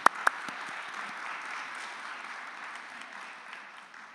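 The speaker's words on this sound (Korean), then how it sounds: "우리 성가대 위해서 다시 한번 큰 박수와 지원 부탁드리겠습니다" Steady applause from a church congregation fills the room, a couple of sharp claps standing out at the start before the clapping settles into an even wash.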